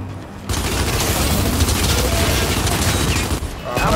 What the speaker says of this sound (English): I know how to fire a gun, Bear.